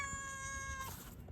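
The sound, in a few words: cat meowing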